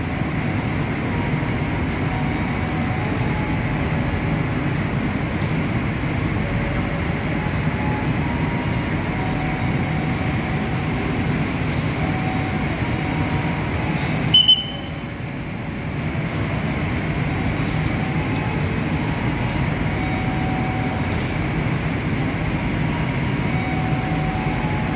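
The Argo Bromo Anggrek train sits at Semarang Tawang station preparing to depart, a continuous low rumble of engine and rail noise with faint high ticks and a brief dip midway, steady and fairly loud throughout.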